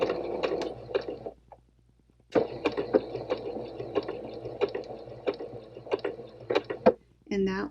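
A home sewing machine stitches a straight seam through fabric pieces, bursts of rapid mechanical rattling broken by a short pause before a final stretch in reverse, close and clear.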